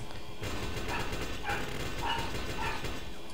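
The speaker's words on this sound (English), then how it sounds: "I'm hearing loud noises from my dog" A dog yips and barks in short, repeated bursts over steady background noise, fairly close and loud throughout.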